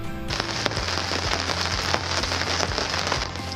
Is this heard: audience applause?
no